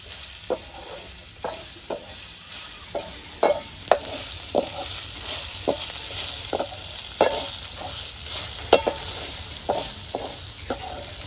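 Chopped onion fries in a pan with a steady sizzle, broken by scattered scrapes and clinks of a stirring utensil, close by and without speech.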